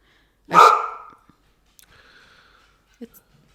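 A household dog lets out one loud, sharp bark close by, and the bark fades quickly into quiet with only faint small noises afterward.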